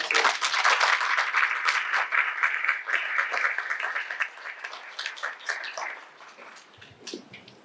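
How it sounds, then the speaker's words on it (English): Graduation audience applauding at a commencement ceremony, dense sustained clapping that stays loud for several seconds, then thins and tapers toward the end. "Please give me a round of applause."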